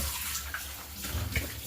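Water being poured into a pot while making homemade lipstick, a short continuous splashing rush that stays fairly even and close.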